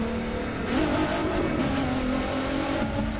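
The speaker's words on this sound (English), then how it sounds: "It's the fucking turbos and shit in the car" A turbocharged car in a PS4 racing game runs hard, its engine droning and shifting pitch steadily, with a faint whine over a continuous, close motor roar.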